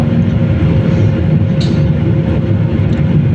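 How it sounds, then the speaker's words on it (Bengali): A loud, steady engine roar fills an airplane cabin cruising at about 40,000 feet over Moscow, a constant droning hum with no voices. "আর এই মুহূর্তে বিমানের ভিতরে প্রচণ্ড শব্দ তো আছেই"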